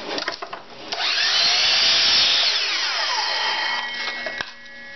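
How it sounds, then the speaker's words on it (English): A softwood construction board is cut in half with a power saw, which bites in with a loud, sustained whine lasting a few seconds and then winds down, with no one talking. "I'm going to cut this in half."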